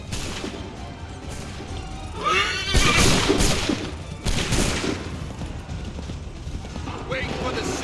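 Musket volleys crack out in the Assassin's Creed 3 battle, two loud, ragged bursts of massed gunfire over a busy background of horses and clattering gear.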